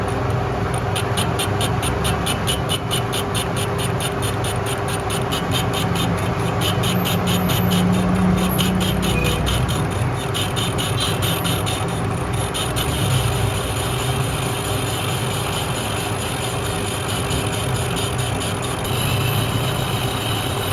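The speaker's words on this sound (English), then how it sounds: "So I balance it out on the lathe machine." A lathe turns a cement-filled flywheel for a homemade compressed-air engine while it is balanced, giving a steady, loud motor hum with a constant drone and an even rapid ticking throughout.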